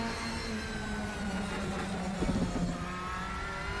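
A DTM race car engine in the RaceRoom Racing Experience game hums steadily with sustained tonal drone and whine, swelling briefly with a revving surge mid-clip before settling back; no talking.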